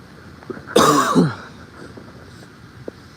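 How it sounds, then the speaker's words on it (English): A single harsh cough bursts out close by, a raspy throaty burst lasting about half a second, followed by faint outdoor background with a couple of small clicks, heard during a live fly-fishing session by a stream. "so I'm gonna develop a cough"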